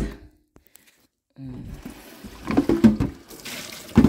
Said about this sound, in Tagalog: Magkuha lang ako ng isang balding malinis na tubig.